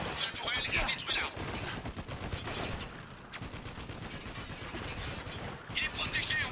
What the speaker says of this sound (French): On neutralise cette mitrailleuse!